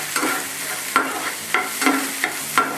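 Coriander powder spice mixture with onion fries in a hot pan with a loud, continuous sizzle, and a spoon scrapes it at regular intervals, about five strokes.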